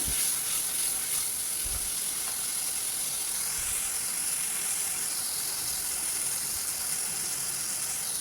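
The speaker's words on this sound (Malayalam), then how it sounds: "രണ്ട് ഉണക്കമുളകും കൂടി ചേർക്കാം" Dried red chillies fry in hot oil over a low flame while making curry, giving a steady, even sizzle and hiss throughout, close to the pan, with a few faint knocks and no talking.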